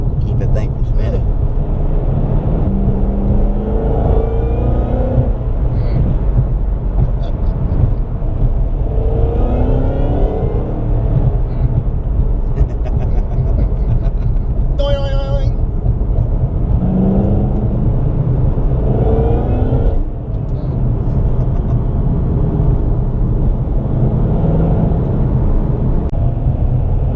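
A Ford Mustang GT500 engine growls under hard acceleration, a deep, loud, sustained in-cabin roar that climbs in pitch through the gears, with people talking and whooping over it.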